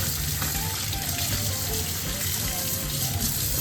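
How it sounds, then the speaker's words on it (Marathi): Crabs rinsed under a running kitchen tap for a Malvani-style crab masala, giving a steady, close rush of water with no break and no voices. "सगळे खेकडे छान स्वच्छ पाण्याखाली धुवून घ्यायचे"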